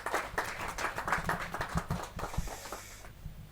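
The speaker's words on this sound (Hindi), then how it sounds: "जोरदार तालियों के साथ" Audience applause at a Hindi kavi sammelan poetry gathering, a burst of scattered clapping lasting a few seconds, fairly close and moderately loud, tapering off at the end.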